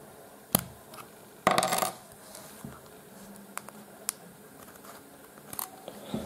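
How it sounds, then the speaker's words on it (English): Small plastic clicks and a brief scraping rattle as the SIM tray of a POMP C6S dual-SIM smartphone is pried open, with a few sharp taps spread across a quiet background. "So let me try to open up this now."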